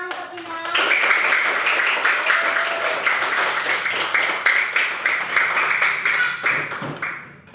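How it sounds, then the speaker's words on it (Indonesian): A school class claps for a student named Kinan, a dense, sustained round of applause lasting several seconds before tapering off, with a few voices mixed in. "Tepuk tangan untuk Kinan."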